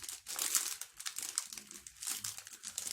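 Plastic wrapper on a Juhayna snack crinkles and crackles as it is torn open, close and fairly quiet, in several quick bursts.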